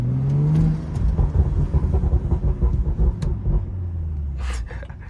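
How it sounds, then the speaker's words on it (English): A BMW 335i with a Stage 2+ tune, heard from inside while driving: an engine rises in pitch under acceleration, then drops off into a rapid, stuttering burble of exhaust pops and crackles before settling into a lower drone. "I'm just gonna go through here, make you guys hear the pops a little bit."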